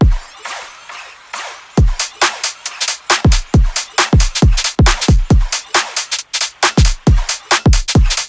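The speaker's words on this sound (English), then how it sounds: "so far just the drums with the effects sound like this." Punchy trap drum beat with heavy booming kicks and crisp snappy hits, processed with effects, playing loud and steady with no voices.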